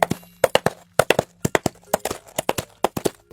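Coconut shell halves knocked together as film foley in imitation of horse hoofbeats, a close, dry series of sharp clip-clop knocks in an uneven galloping rhythm with short pauses between groups.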